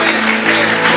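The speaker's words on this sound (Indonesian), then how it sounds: "Tepuk tangan bagi Yesus" A church congregation claps for Jesus, loud rhythmic clapping pulsing together in a close, busy room, with a low musical hum sustained beneath.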